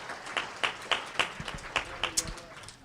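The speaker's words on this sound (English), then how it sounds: "Please give yourselves a round of applause." A roomful of patient-panel attendees claps in loose, irregular bursts, the individual claps spaced a few tenths of a second apart and moderately loud at close range, with a faint murmur of voices underneath.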